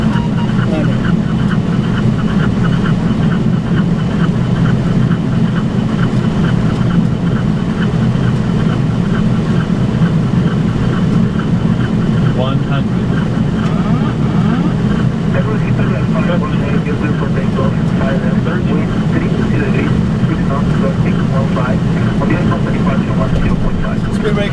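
Boeing 767-300ER landing with engine reverse thrust roaring loud and steady, with speed brakes deployed, as heard from the cockpit, while crew voices speak over it.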